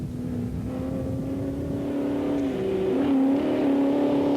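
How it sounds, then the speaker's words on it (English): A Range Rover rally-raid car drives with a sustained engine drone, pitch rising and shifting as it accelerates, loud and close with no voices, during the 1992 Pharaohs Rally Raid. "Delaverne there in the Range Rover"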